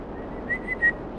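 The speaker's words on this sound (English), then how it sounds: "I sometimes whistle, and I don't know if the pitch is all crazy" A person whistles a few short, high tones during GTA 5 Online play, each note brief and spaced out. The whistling sits faintly over a steady low background hum, with no talking.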